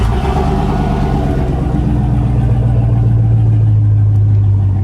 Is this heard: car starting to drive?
yes